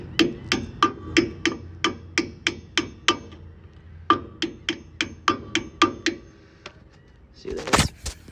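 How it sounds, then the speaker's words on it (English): Hammer driving a needle-nose plier against a trailer brake assembly during a DIY brake replacement: a steady run of about twenty sharp metallic strikes, close and loud, with a short pause midway, no talk. "You gotta pound it with a needle nose and a hammer sometimes."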